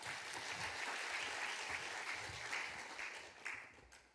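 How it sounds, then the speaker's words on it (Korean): Steady applause from a church congregation at a Saturday dawn service, dense and continuous clapping that fills the whole stretch, tapering slightly near the end. "우리 박수로 이한별 선교사님 환영하겠습니다."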